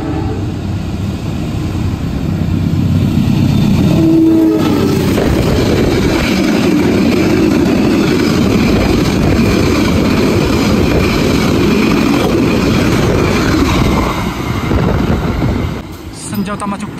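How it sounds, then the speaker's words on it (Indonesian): The Senja Utama Jogja passenger train from Yogyakarta to Pasar Senen rushes past at about 120 km/h, making a loud, sustained roar of wheels and rails that fades near the end. "ini dia kereta api Senja Utama Jogja melintas dengan kecepatan tinggi nih"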